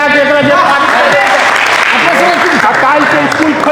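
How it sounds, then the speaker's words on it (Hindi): Steady applause from a crowd at a public all-party meeting, loud and continuous throughout, with voices mixed into the clapping. "ताली बजा के"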